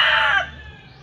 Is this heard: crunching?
no